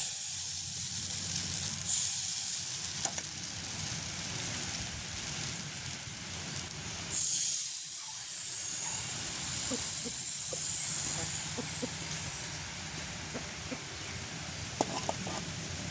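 Beetroot appam batter hissing and steaming steadily on a hot pan in a village kitchen, a continuous close sizzle with a brief quieter dip midway.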